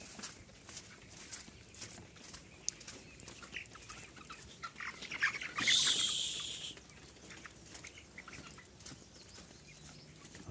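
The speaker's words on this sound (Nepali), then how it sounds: "22 दिनको कुखुरा भइरहेको छ, देख्न सक्नुहुन्छ" 22-day-old chickens cluck and chirp in a coop, with a steady flock murmur, a louder burst of squawking partway through, and no talk.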